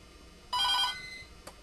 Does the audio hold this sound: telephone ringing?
yes